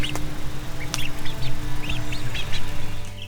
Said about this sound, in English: These guys here are our latest batch of chickens.